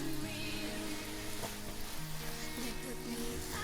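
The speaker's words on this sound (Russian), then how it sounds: "5-7 минут мы сейчас пожарим" Shredded cabbage for red borscht fries steadily in a pan over medium heat, giving a continuous close sizzle with faint crackle throughout, no voices.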